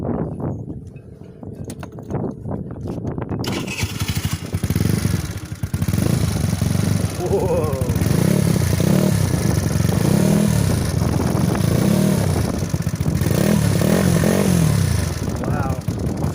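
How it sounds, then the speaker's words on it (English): Scooter fitted with a carbon fiber performance exhaust starts up and settles into a throaty, rumbling idle with repeated revs rising and falling, loud and close, with a brief exclamation from a voice early on. "Carbon fiber performance exhaust. Should we start it up?"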